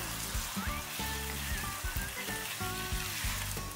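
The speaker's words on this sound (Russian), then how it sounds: "Жарим так 10 минут, регулярно помешивая." Meat for Korean stew sizzling steadily in a hot pan, a dense continuous crackle with occasional scraping of a spatula, no voices.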